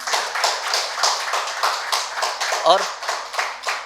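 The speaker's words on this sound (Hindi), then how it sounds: "तालियां बजा दीजिए।" An audience at a Hindi poetry recital claps in steady rhythmic unison, crisp regular beats close and fairly loud, with a brief spoken word slipping in near the end.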